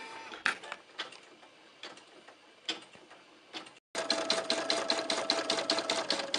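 A Brother PE 770 embroidery machine stitches a design with a steady, fast mechanical ticking and whirring, close and loud, after a brief gap of quieter clicking and handling.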